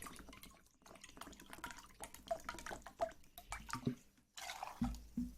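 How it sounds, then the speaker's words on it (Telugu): Water pours and splashes into a pot of chickpeas in uneven gurgling bursts with scattered drips, close by, with brief pauses between pours. "ఈ కప్తోనే 2 కప్స్ వాటర్ వేద్దాం."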